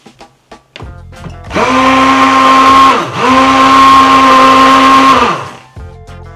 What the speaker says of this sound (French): nous passons le tout au mixeur.